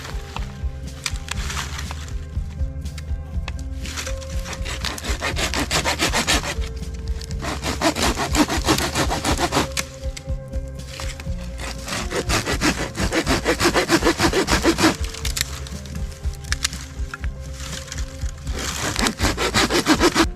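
Firewood is sawn by hand at a state park campsite, with long rasping back-and-forth strokes in several bursts separated by short pauses, close and fairly loud, with no talking.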